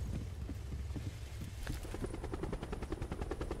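A helicopter in an online video game, its rotor starting up into a steady, rapid chopping pulse that grows more distinct toward the end, heard up close over low rumbling game noise.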